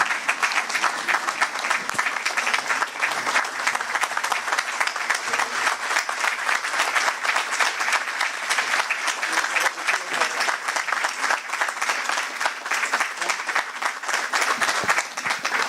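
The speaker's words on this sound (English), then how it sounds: "Friends, could we give him a standing ovation" Sustained audience applause at a Rotary District 3170 governor's installation ceremony, a standing ovation of dense, steady clapping from a large crowd that holds at an even level throughout without pause.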